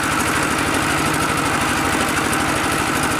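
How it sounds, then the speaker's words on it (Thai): A tractor engine runs steadily close by, a loud, even chugging drone with a rapid pulsing throb and no break. "ขับรถไถมาผู้เดียว"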